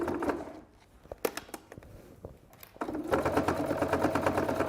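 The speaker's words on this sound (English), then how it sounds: "we're just sewing around here" A sewing machine stitches through two or three layers of fabric: a few separate needle taps and a pause, then a fast steady run of stitching, close and fairly loud, with one short spoken word at the start.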